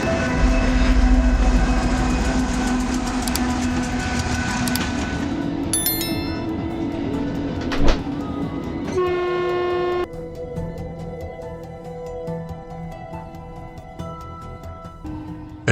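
A train rumbles past on the tracks with a loud horn blast, then the noise thins into ringing, tonal rail squeals as it moves away.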